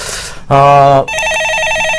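On a stock-market call-in broadcast, a short burst of sound comes first, then an electronic telephone ring trills in a rapid warbling pattern, loud and close.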